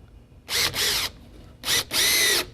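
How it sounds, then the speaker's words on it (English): A power drill drives a screw through a backing piece into drywall during a repair of a large hole, in two loud, close bursts of whirring separated by a brief pause. "I can also hold on to the piece as I'm drilling the backing piece into the drywall."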